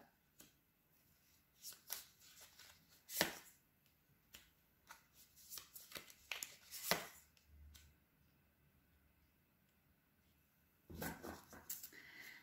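Tarot cards being shuffled by hand in a quiet room, a series of soft papery riffles and slaps in irregular bursts, with a pause before a final flurry of shuffling near the end.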